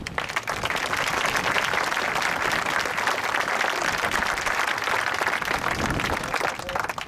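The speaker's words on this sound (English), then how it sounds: "I also want to have a applause for the families and all the people who support our veterans" A large audience claps steadily at an outdoor Veterans Day ceremony at Mount Soledad National Veterans Memorial, a dense, even roar of applause that holds for several seconds without talk.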